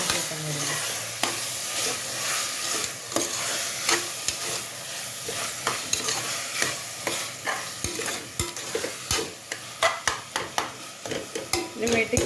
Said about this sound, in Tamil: இப்போ டொமேட்டோ சேர்த்ததுக்கப்புறம் நம்ம நல்லா மிக்ஸ் பண்ணிடுவோம்.